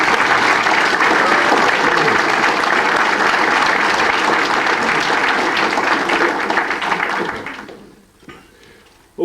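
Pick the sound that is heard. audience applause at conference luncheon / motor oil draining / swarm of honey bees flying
audience applause at conference luncheon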